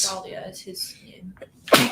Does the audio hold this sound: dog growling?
no